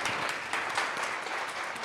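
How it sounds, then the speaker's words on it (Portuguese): An audience applauds the mediator at a talk event, steady moderate clapping that continues without a break. "Palmas para ela,"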